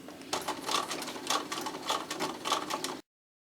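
A sewing machine runs in steady bursts of stitching while sewing a gift bag made of newspaper, its rapid mechanical whir pulsing in even surges, close and moderately loud, then cutting off abruptly.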